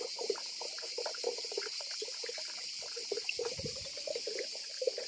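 Water trickles from an old horse-watering spring beside the Camí de Cavalls coastal path on Minorca, a steady, gentle flow with small splashy bursts and no voices.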